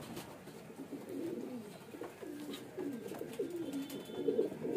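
A pigeon coos repeatedly in low, throaty rolls, fairly close and steady across the stretch, with faint background hiss and no talking.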